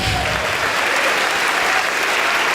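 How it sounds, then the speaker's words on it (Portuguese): A church congregation applauds in a dense, continuous roar of clapping that fills a large room, loud and even throughout with no talk over it. "vamos aplaudir muito ao Senhor."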